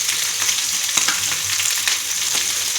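Red chili powder and salt sizzle in a hot frying pan over lowered gas heat while potatoes cook, a steady close, loud crackling fry with occasional stirring scrapes and no talk.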